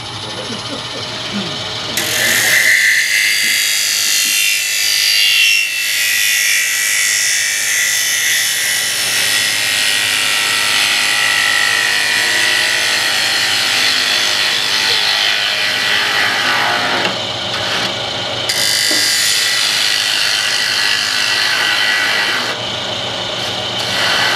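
A gouge cuts on a spinning thin-walled wooden bowl on a lathe, giving a loud, continuous rough scraping hiss that runs almost without a break. It eases briefly near the end.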